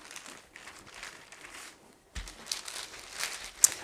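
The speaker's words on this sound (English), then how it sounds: "Now you need a second piece of parchment, set it over the top, and we're gonna roll this out." Sheets of parchment paper crinkle and rustle over potato candy dough being rolled out, with soft scattered crackles, a brief pause, then a louder burst of crumpling ending in a sharp crinkle.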